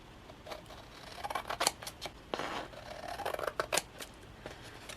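Scissors trim the foil-covered edge of a paper planner page in a few quick, close snips, crisp and short with small pauses between cuts, with no voices.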